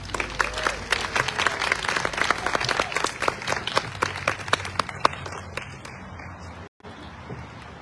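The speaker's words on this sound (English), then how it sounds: "big round of applause for Karen Chadwick" An audience gives a round of applause for Karen Chadwick at a wildlife talk, dense steady clapping that fills most of the stretch, then thins and fades out near the end.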